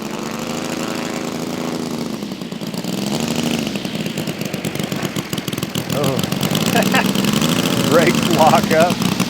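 A radial engine on a giant RC T-28 Trojan model plane runs steadily with a deep, even drone that swells slightly toward the end, while a person talks close by over it.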